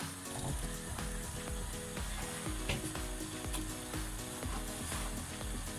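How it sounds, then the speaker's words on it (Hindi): Mutton being seared in a pan as onions and other vegetables go in, a continuous sizzle with clattering stirs, mixed with a steady tonal hum, without talk. "अभी अपना मटन सील हो गया है। अभी इसमें बाकी के वेजिटेबल डाल देते हैं, जैसे कि प्याज"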